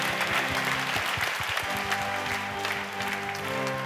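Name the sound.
applause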